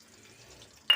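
Water is poured into a cooking pan of spiced food, giving a brief, loud splash and sizzle right at the end after a quiet stretch.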